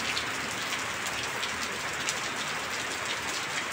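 Steady rain falls outside a house on a cool, windy day, with water pooling out front; a dense, even hiss of drops on surfaces runs continuously and fairly loud, with no voices.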